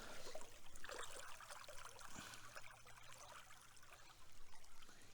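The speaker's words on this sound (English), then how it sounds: "Let me go ahead and wash this piece off." Water trickling and splashing as a dug-up relic piece is rinsed off outdoors, a faint continuous pouring with small splashes and no talk.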